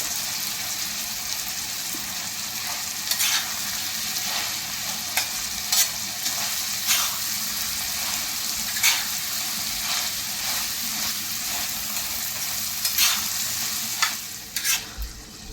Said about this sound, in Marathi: आता आपण बटाटा घालूया।